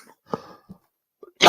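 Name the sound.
person coughing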